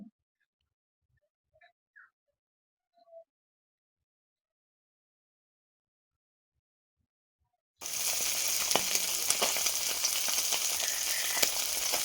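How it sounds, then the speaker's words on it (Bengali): Fish marinated in salt and turmeric frying in oil: after several seconds of near silence with a few faint clicks, a loud, steady sizzle starts abruptly and keeps crackling close up. "তারপর মাছগুলো নুন হলুদ মেখে রাখা হয়েছিল, তো সেগুলি এখন অল্প অল্প করে ভেজে নিতে হবে"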